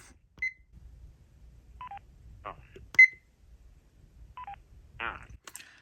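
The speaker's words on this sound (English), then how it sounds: "you may want to call your home number and enter your remote access code to play your messages" DTMF keypad tones entering a remote access code on a Panasonic answering system over the phone line: several short separate beeps spaced irregularly across quiet line noise, with faint low rumble between them.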